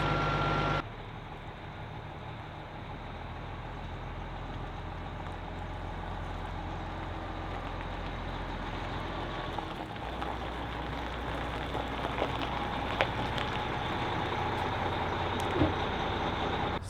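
A DIY motorhome drives and pulls up in front of a house, its engine a steady low rumble with constant road and body noise, loud and close, after a brief louder start.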